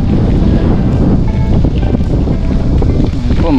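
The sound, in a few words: strong wind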